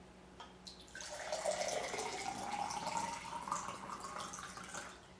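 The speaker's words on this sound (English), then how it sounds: "We're going to pour different amounts of water in each of the glasses." Water is poured into drinking glasses with a metal spoon nearby, a soft steady trickling stream rising in pitch as the glass fills, heard close over faint room hum.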